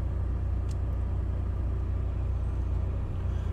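A 2019 Nissan NV200 1.5 dCi Tekna van's diesel engine idling cold just after starting, a steady close rumble with an even low drone and no talk.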